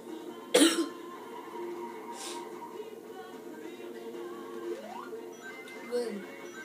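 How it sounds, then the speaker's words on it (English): A single sharp cough bursts out near the start, then quiet room tone with a faint sliding game tone and soft background sounds. "Last cough of the whole entire video, right now."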